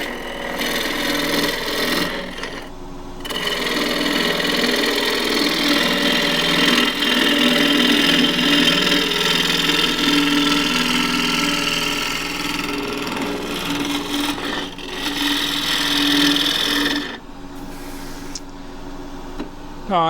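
Shallow gouge cutting wood on a spinning lathe, truing up the end of a cross-grain tube: a continuous rough scraping hiss over the motor hum, with brief pauses where the tool lifts off.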